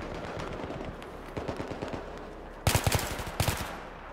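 Bursts of rapid automatic gunfire in the shooter game Battlefield 3, a fast rattling stream followed by two louder, closer volleys with no talk over it.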